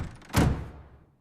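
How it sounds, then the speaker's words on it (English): A door swings shut in a home with a single solid thunk, followed by a short fading ring and then quiet, close and fairly loud, with no voices. "Please close the door gently."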